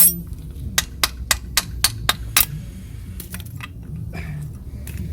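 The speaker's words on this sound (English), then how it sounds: "Oh, tap it out with the hammer." Hammer taps on Ford Fiesta Titanium MK7 brake parts while the pads are knocked out of the carrier, about seven sharp metallic strikes in a quick even rhythm, followed by lighter clinks.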